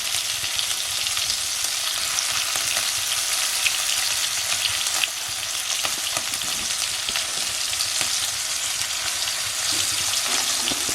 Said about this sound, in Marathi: पहिल्या लॉटचे जे मासे होते ना, ते चांगले फ्राय झाले आहेत